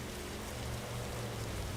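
Steady rain hisses as a broad, even wash in a racing video game at Richmond, constant and fairly loud with a low rumble beneath, no talk.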